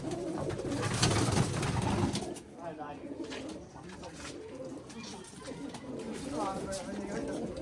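Pigeons coo in a loft kept by a pigeon fancier, the soft calls rising close by and mixed with someone talking steadily over them.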